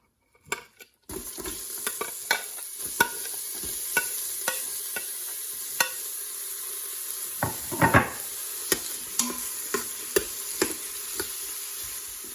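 Onions sauté in hot oil, a continuous bright sizzle with repeated sharp scrapes and clicks of a spoon against the pan, close and steady after a short start.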